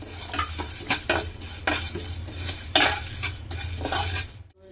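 Urad dal and spices dry roasting in a pan while being stirred, a steady scraping of a utensil against the metal with repeated clinks, close and continuous, under a low hum.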